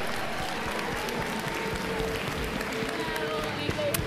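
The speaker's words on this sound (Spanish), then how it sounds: "Por lo general la gente aplaude." Audience applause in an event hall, a steady dense wash of clapping held at even loudness throughout, with voices mixed into it.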